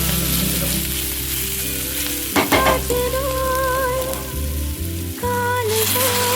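Food frying in a kadai, a steady loud sizzle and crackle close by, with stirring clatter breaking in partway through and a melody playing in the background; nobody speaks.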